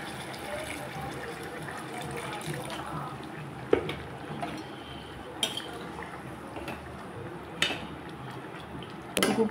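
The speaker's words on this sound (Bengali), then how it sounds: "যেটুকু প্রয়োজন সেটুকু জল দিয়েছি" Water is poured into a pot of vegetable curry of potatoes, tomatoes and Malabar spinach. A steady, moderately loud splashing wash runs throughout, with a few faint clinks of utensils against the pot.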